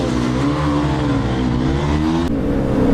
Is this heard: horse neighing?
no